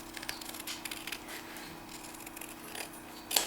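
Scissors trim the card edges of a Druid Craft tarot deck. A series of soft, close snips and crisp cuts in a quiet room, ending with a sharper metallic click.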